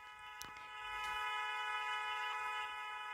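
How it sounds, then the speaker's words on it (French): A car horn in a taxi-driving video game blares as one long, steady honk that swells in after a brief click and holds loud to the end, with no talk over it. "T'imagines, je donne un klaxon."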